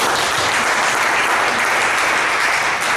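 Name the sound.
workshop audience applause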